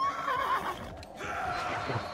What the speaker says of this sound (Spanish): Los caballos, yo no sé si se les puede ganar